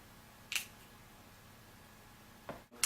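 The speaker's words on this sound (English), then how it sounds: "So I'm going to spray it here." Two short, sharp hissing sprays of Britney Spears Hidden Fantasy eau de parfum a couple of seconds apart, close by in a quiet room.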